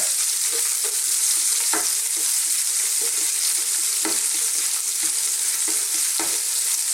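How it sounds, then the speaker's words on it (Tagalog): Onions sautéing in a pan for a Filipino crab misua with loofah dish, a steady loud sizzle with repeated scraping stirs of the spoon spaced through the pan, no talking. "Sunod na po natin yung ating sibuyas. Again, stir."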